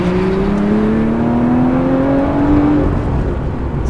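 Supercharged Lotus Evora S engine pulling hard under acceleration, a loud steady roar with a rising tone climbing through the revs, heard from inside the car.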